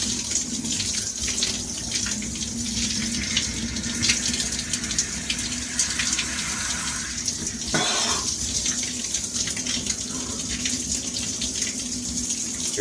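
Cold shower water runs steadily throughout as a continuous broadband spray, close and even in level, with a brief splash or bump partway through and no speech.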